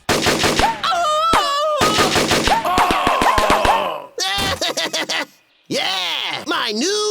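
Cartoon gun rattles off rapid bursts of rubber-bullet shots between stretches of exaggerated character voices, with short gaps and a final empty pause.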